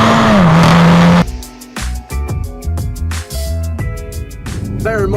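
A VW Golf R with a titanium sports exhaust revs hard, then a rapid series of sharp exhaust pops and crackles between gear changes, close and aggressive.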